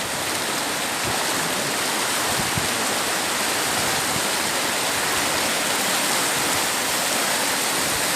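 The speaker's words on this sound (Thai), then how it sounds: "น้ำลึกมากนะครับเนี่ย ตำนวจเส้นทางน้ำครับ" Rushing water in a canal at a pumping station: a loud, continuous broadband roar of churning flow, close and steady throughout with no pauses.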